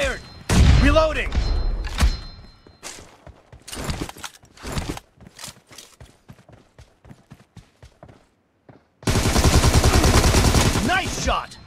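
Gunfire in the shooter game PUBG: bursts of loud, near shots with a sustained rapid volley near the end, amid scattered thuds and brief game voice lines.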